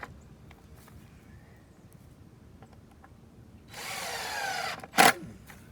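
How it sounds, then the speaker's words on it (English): A power drill driving wood screws into a wooden garden bed frame of four-foot and six-foot boards runs for about a second in one steady whir, then gives a short sharp burst, against a quiet outdoor background. "So using the wood screws, you just take the 4-foot and screw it to the 2 6-foot sections."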